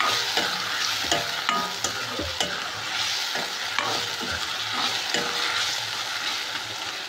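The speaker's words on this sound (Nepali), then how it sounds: "यसलाई चलाएर मजाले भुट्नुपर्छ।" Local chicken frying and being stirred in a pan, a constant loud sizzle with repeated scraping and knocking of the utensil, no one speaking.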